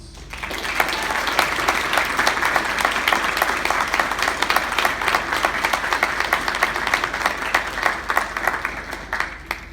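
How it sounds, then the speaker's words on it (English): Steady, sustained applause from a sizable crowd at a U.S. Public Health Service Commissioned Corps officer graduation, dense overlapping claps filling the whole stretch at an even level with no talking. "please give these officers a round of applause"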